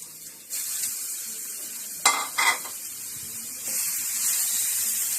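Shrimp and pork being stir-fried together in a pan for shrimp and pork rice porridge: a loud close sizzle that surges as the food goes in, with a couple of sharp spatula scrapes and knocks against the pan, no talk.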